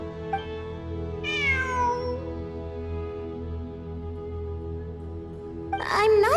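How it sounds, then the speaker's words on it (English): A cat meows in the Genshin Impact video game, one drawn-out mew followed later by another short call, both set over a sustained, quiet game music backdrop. "It really is a cat."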